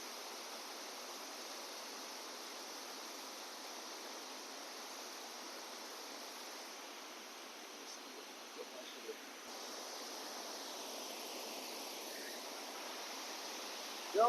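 A waterfall at Doi Inthanon, Thailand's highest peak, pours with a steady, dense rushing roar that holds an even level throughout, with a few faint knocks near the end.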